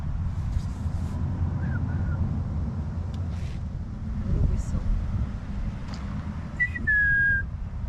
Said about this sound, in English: I've been training Bronte for this whistle.